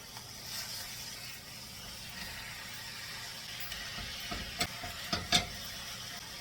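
Burger patties, four packed into a pan, fry with a low, steady sizzle, broken near the end by a few sharp clinks and scrapes, with no voices.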